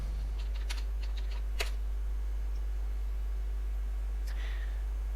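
Light typing on a computer keyboard with a few scattered, quick key clicks and one sharper tap, set against a steady low electrical hum and no voices.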